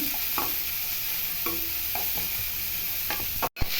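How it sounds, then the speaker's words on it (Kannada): Onions and chillies fry in a pan, sizzling steadily while a utensil stirs with scattered scraping knocks, ending in a short silent gap. "ಈರುಳ್ಳಿ ಮೆಣಸಿನ ಚೆನ್ನಾಗಿ ಫ್ರೈ ಮಾಡಬೇಕು"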